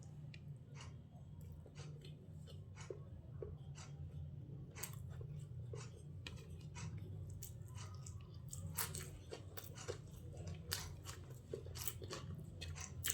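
Someone eats aloo biryani up close, with quiet repeated chewing and crunchy bites scattered through a low background hum, and no one talking.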